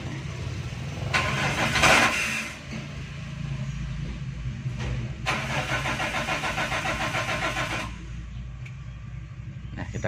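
A cold carbureted Daihatsu Espass engine is cranked by the starter in repeated attempts, with a churning whir and low rumble close by, followed by uneven engine noise.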